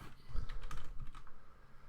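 Keys pressed on a computer keyboard, a quiet run of soft clicking taps close by, with no talking.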